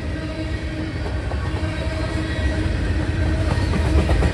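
A westbound manifest freight train of 404 axles, including many empty center-beam cars, rolls steadily past at close range, a loud continuous rumble with rhythmic wheel clatter and no voices.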